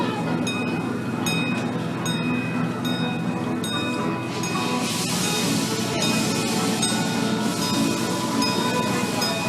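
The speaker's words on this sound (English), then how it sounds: "It's a propane fired train." A propane-fired German-style park train at Busch Gardens rolls along with a steady rumbling, clattering run and light metallic clinks, heard continuously with a busy background of voices.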